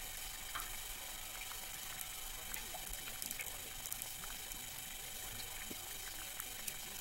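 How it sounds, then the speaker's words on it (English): Underwater through a hydrophone at roughly 16 to 17 feet of depth, fish and sea critters make scattered faint clicks and ticks, like light raindrops, over a steady hiss. "you can start to hear the clicking and the other noises of all the critters underneath the sea"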